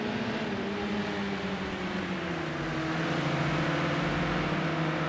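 Renault touring car racing at Brands Hatch Indy in Project Cars 2 on Xbox: a loud, continuous engine drone with smoothly shifting pitch that holds steady throughout, alone without voices.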